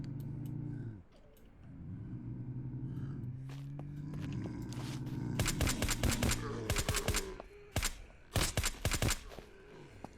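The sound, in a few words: 9mm gunfire in Surroundead video game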